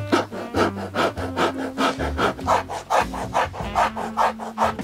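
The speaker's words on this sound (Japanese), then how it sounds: "でこれを今度はヤスリで削っていきます。" A rasp filing the stiffener at the toe of a handmade bespoke leather shoe, steady back-and-forth rubbing strokes, about ten even rasping passes, close and alone.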